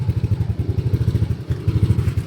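A Yamaha Aerox V3 scooter with a bolt-on exhaust pipe idles close by, its engine thumping in a steady, lumpy pulse on its own.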